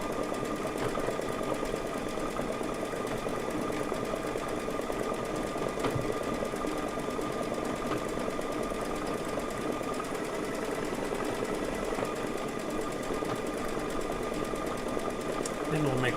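An embroidery sewing machine stitches out a satin stitch with a fast, steady mechanical buzz and clatter that stays constant and close throughout. A voice talks over it.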